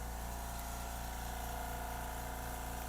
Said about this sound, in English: let's let that air compressor turn off so you can hear me better